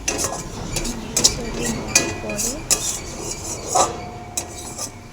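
A utensil scrapes and clinks against a pan in repeated stirring strokes through mashed flat beans, with a soft sizzle underneath and occasional sharp metallic taps.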